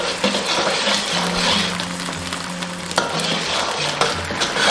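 Black pepper sauce is stirred in a pan for braised beef short ribs, giving a dense, steady sizzle with a few soft scrapes. The sound is close and continuous, with no talking.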